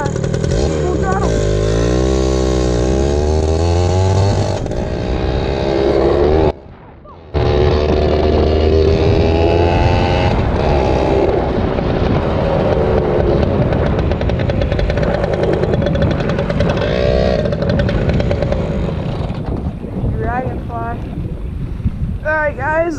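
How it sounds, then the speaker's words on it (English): Yamaha PW80 dirt bike engine at full throttle, a loud buzzing two-stroke tone rising and holding with heavy wind rush over the microphone, briefly cutting out midway before continuing. "Let's do a full throttle."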